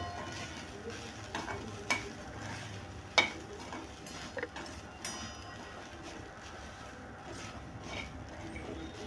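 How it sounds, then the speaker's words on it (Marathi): Grated fresh coconut sautéing in a pan for ukadiche modak filling, a quiet soft sizzle with occasional sharp scrapes and clinks of a spoon, no voices. "नारळ खोबरं थोडंसं परतून घेऊ"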